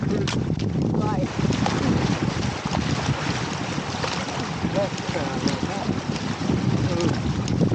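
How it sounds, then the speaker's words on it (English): Strong desert windstorm blowing sand on the Colorado River near Lees Ferry, gusting loudly as continuous buffeting wind noise, with voices talking through it. "When you get a windstorm, it's a sandstorm essentially."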